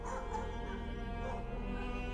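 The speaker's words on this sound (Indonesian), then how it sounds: "ada seekor anjing yang menggonggong tepat ke arah salah satu kuburan" Dog barking as a sound effect in a radio horror story set at a graveyard, a steady low murmur of repeated canine yips and whines under a dense, droning background.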